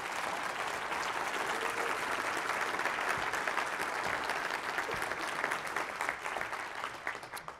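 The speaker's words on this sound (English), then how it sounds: "a big round of applause if we can" Steady, sustained applause from a large audience fills the whole stretch, dense clapping without pause, tapering slightly at the end.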